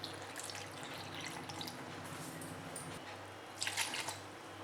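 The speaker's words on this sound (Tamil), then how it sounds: "அதுக்கப்புறம் பால் சேர்த்துக்கிறேன்." Milk poured into a blender or glass for a Kit Kat chocolate milkshake, a faint steady liquid trickle that swells into a brief louder splash near the end.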